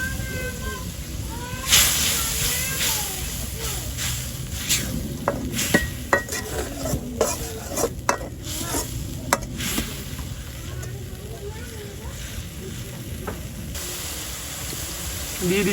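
Spice paste, chili powder and chopped onion go into a pan for a light village-style fish curry, with a steady frying hiss under scattered metallic clinks and scrapes of a utensil stirring against the pan.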